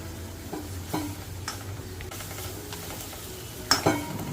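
A ground masala paste with homemade red chili masala sautéing in a pan, a soft sizzle with a few scraping stirs of a spoon against the pan, quiet and close with no talk.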